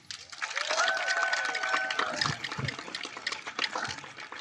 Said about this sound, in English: I'd like to have a big round of applause for the class of 2020